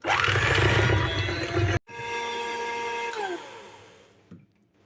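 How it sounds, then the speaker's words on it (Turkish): A loud electric mixer whirs steadily whisking eggs and sugar, briefly stops and restarts, then its motor winds down to silence; no voices. "Hemen bir su bardağı şekerimi döküyorum ve mikserimle iyice çırpıyorum."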